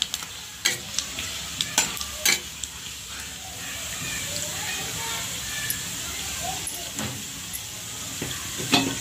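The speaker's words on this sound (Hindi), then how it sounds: "चार लौंग, छोटा चम्मच जीरा। इसको थोड़ा भूनते हैं।" Cloves and cumin seeds roasting in a pan for a mushroom and pea curry, with a soft continuous sizzle and occasional sharp clinks and scrapes of stirring, close and fairly quiet.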